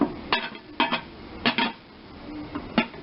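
Metal lid clattering onto a pot of marinara: several sharp clinks and clanks in short bursts, close and fairly loud, with quiet gaps between them.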